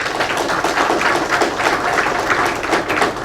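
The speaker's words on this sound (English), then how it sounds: "I request all of you to give a big round of applause" Steady, dense applause from an audience at a law book launch on access and benefit sharing jurisprudence, continuous clapping filling the room at even loudness throughout.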